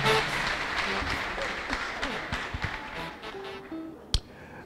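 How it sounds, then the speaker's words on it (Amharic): A church congregation at a prophet's deliverance service claps for a woman's husband, producing scattered hand claps and taps that thin out over a few seconds, with a sharp louder clap near the end. "አጨብጭቡለት ለኢዮብ"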